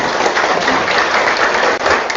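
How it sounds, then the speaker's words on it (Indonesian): At a village deliberation meeting, a room full of attendees applauds continuously, a dense, even patter of many hands clapping throughout with no talk over it. "tepuk tangan dulu Desa Wawosu"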